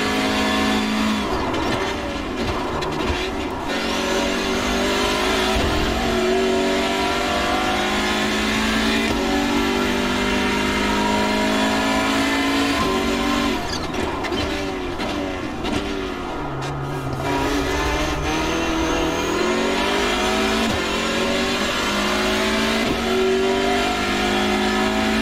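Turbocharged inline four-cylinder engine of a Hyundai Veloster N TC touring car in iRacing, revving hard and continuously with rising and falling pitch through gear changes, loud and up close with no talking.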